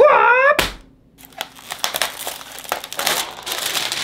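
Close, loud crinkling of cellophane wrapping on an airsoft Thompson (Tommy gun) box being handled and crushed, in irregular rustling bursts after a brief yelp at the start.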